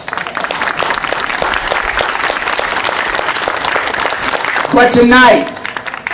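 Audience applause at a talk on equal protection and health care, dense sustained clapping that fills the room before a speaker resumes talking.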